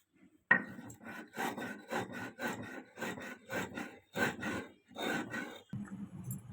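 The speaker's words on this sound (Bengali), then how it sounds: "চিনিটা গুঁড়ো করে নিলে তাড়াতাড়ি গলে যাবে" Sugar is ground into powder for homemade ice cream: a rhythmic scraping, rubbing grind comes in repeated short strokes at moderate loudness, followed by a soft low rumble at the end.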